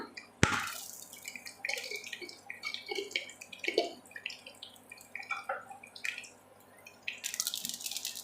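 Mustard seeds crackle and spit in hot oil for a simple rice-and-lentil dish, giving scattered sharp pops and sputters, one loud snap near the start, then steady close frying sizzle with bursts of popping, no talking.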